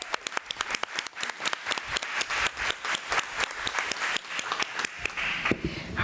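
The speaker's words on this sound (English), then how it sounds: "Let's give Ms. Glover a round of applause" Meeting audience applauds an award recipient, a dense burst of clapping sustained for about six seconds without talk, fading slightly at the end.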